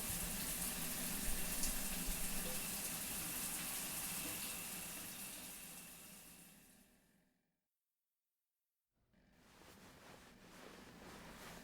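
Shower water runs in a steady, hissing gush, then fades out into silence before starting again more softly, with no voices.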